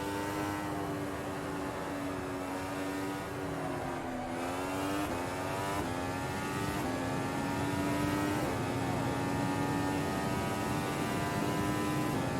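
A Formula 1 car engine in the racing game Automobilista, a continuous high whine rising and falling through upshifts and braking on the final lap, loud and unbroken, with no speech.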